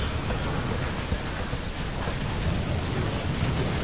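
The shadow rain attack in the video game Soulstone Survivors: a dense, steady wash of rain-like noise with a low rumble, continuous and loud throughout with no pauses.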